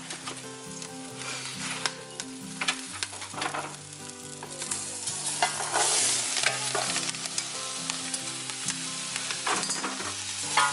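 Beans sizzling loudly in a hot pan as they are stirred, with a steady frying hiss and repeated scraping strokes of the spoon across the pan, close up and without any talk.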